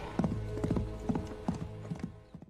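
Horse hooves clip-clop in the film Mongol, a quick, uneven run of hoofbeats at moderate distance that fades toward the end.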